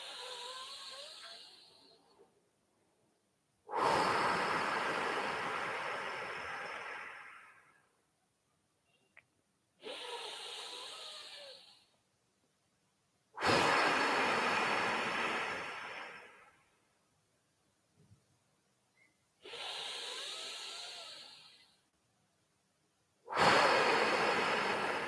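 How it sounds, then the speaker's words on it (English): Deep, slow breaths during a relaxation exercise, each long inhale and exhale rising and fading in turn, about six breaths with quiet pauses between, close and soft, with no talk. "Make it deep and slow, both inhale and exhale."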